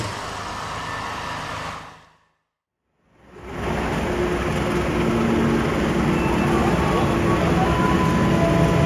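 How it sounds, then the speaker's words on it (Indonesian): Sawunggalih passenger train at Kutoarjo station, a steady loud rumble of the stopped train and platform surroundings with a high electrical whine, broken by a sudden dropout of near silence for about a second before the noise resumes. "Perjalanan kereta Sawunggali memang sudah terhenti di stasiun Kuto Arjo"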